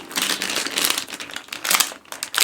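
Close, crisp crinkling of a plastic Sonic Prime surprise packet being squeezed and handled, irregular bursts with no talking.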